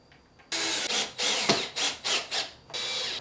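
A power drill whirs in several short bursts into a wooden subwoofer box, loud and close, with brief pauses between pulls.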